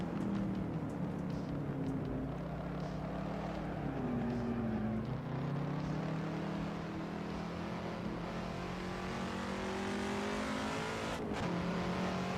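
A race car engine in the Assetto Corsa racing game, droning loudly and continuously as its pitch dips and climbs through gear changes, with a brief sharp click near the end and no talking.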